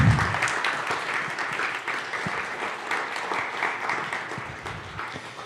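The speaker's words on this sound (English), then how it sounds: "Let's give them another little round of applause there." A circle gathered to honour elders gives them a short round of applause, dense clapping that starts loud and slowly tapers off over about five seconds, with no talking over it.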